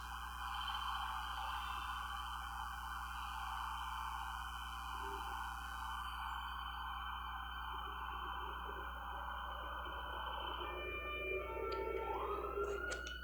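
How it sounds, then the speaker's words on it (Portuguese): An emergency vehicle siren, from an ambulance or police car, wails steadily at a distance under a constant low hum, fading and shifting toward the end. "que a ambulância, a polícia, sei lá o que era, tava demorando para sair dali"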